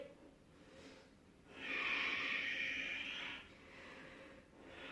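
A person exhales steadily through the mouth during a Hatha yoga pose, one long audible breath out in a quiet room, with softer breathing before and after it.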